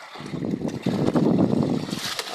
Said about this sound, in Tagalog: Yan, malalaki ang alon.